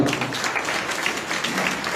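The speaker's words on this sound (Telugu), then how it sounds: "గట్టిగా చప్పట్లు కొడదాం." A church congregation gathered for a Good Friday service claps loudly together, a continuous, even burst of many hands heard close and full throughout.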